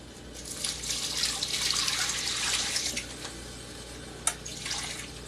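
Kitchen tap water streams into a sink while cabbage soaked in vinegar water is rinsed, a steady close splashing hiss with a brief sharp clatter near the end, no voices.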